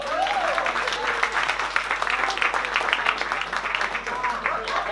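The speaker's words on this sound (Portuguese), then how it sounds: "Dê um aplauso ao Senhor." Congregation applauding during a church service, a sustained wash of clapping with voices mixed in, steady and moderately loud for the whole stretch.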